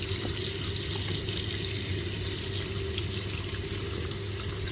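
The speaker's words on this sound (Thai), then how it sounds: "ล้างหอย" Shellfish being washed under a steady stream of running tap water, a continuous close splashing and gurgling with no talk.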